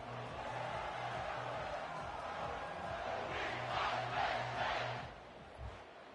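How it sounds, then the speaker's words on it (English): Stadium crowd roaring in the EA Sports College Football video game, a steady distant din of cheering that swells briefly in the middle, with a low rhythmic pulse underneath and no talk. "It's early, but this crowd is fired up. Listen to this noise here."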